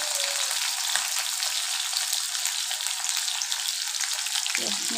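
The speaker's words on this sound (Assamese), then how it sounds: "মই পিঁয়াজখিনি ৰঙচুৱা হোৱালৈকে ভাজি ল'ম।" Onions frying in hot oil in a home kitchen pan, a steady dense sizzle continuing throughout at close range, with a brief stir or scrape near the end and no talking.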